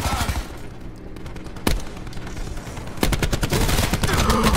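Video game gunfire, a quick burst of close shots at the start, a single sharp crack near the middle, then a rapid string of loud reports to the end, with no talking.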